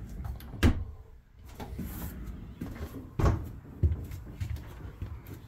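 Inside an RV bathroom of a 2019 Montana High Country 381TH, a door opens and closes with a few dull wooden thumps and knocks spread over several seconds, against a quiet room.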